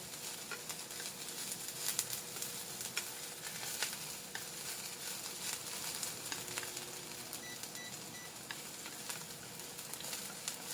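Water dropwort with sugar frying in sesame oil in a pan while being stirred, a steady close sizzle with faint scraping and patter throughout, no talk.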